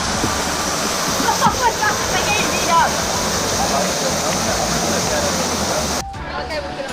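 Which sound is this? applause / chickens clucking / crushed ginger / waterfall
waterfall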